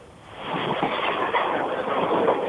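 Train noise heard over a reporter's phone line during travel: a steady, loud rumble that swells after the first half second and holds on, with a faint clatter of wheels and no clear speech.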